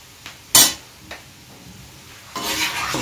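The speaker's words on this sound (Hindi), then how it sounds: "इसमें गरम गरम डाल के चलाना है" A spoon stirs hot sugar syrup into fried shakkarpare in a pan, giving a few sharp clinks and scrapes against the metal, then a longer rustling, sizzling stir near the end.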